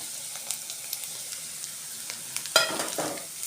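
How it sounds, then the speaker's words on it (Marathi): Cabbage and green chillies sauté in hot oil for gobi Manchurian with a soft continuous sizzle and light scraping stirs, then a sudden louder hiss of steam near the end. "पाच मिनिटभर परतून घ्यायचं थोडं आपलं हे मऊ करून घ्यायचं"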